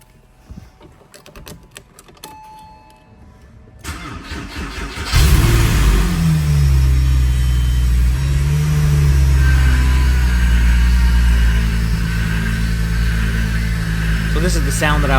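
Power steering pump on a Porsche with air in the system, running as a loud, steady mechanical whine and drone with engine hum after a quiet start and a sudden onset, under brief voices.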